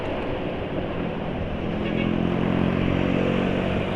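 Steady engine roar of motorbikes passing along a road, continuous traffic drone that grows slightly louder toward the end.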